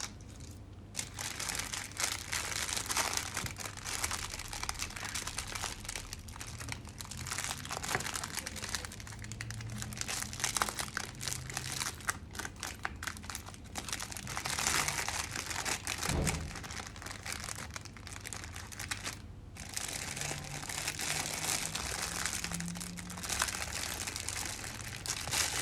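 Plastic bags crinkle and rustle steadily while gergean treats are bagged and prepared at home, a dense crackling texture that runs continuously for the whole stretch with no talk over it.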